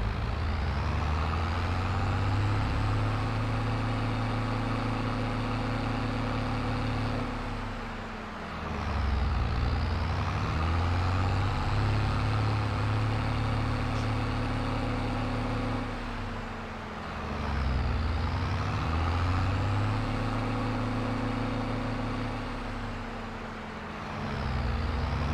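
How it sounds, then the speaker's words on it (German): A tractor engine in Landwirtschafts-Simulator 22 drones loud and steady at full throttle, its pitch rising and dipping in long cycles as the revs climb and fall back twice, with no talking over it. "Jetzt gebe ich hier mal Vollgas und jetzt beobachtet ihr mal den Sound und die Drehzahl."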